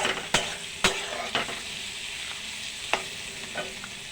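Vegetables for vegetarian chowmein fry in a pan, with a soft, steady sizzle broken by a few sharp clinks and scrapes of a utensil stirring against the metal, close and moderately quiet with no talking.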